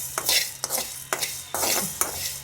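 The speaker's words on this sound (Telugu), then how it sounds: "ఇప్పుడు ఉప్పు కారం అయితే ఆయిల్లో మంచిగా వేగిపోయింది" Cloves, cardamom, salt and chili powder frying in a little oil for egg curry, stirred in repeated loud scraping strokes over a crackling sizzle, close up with no talk.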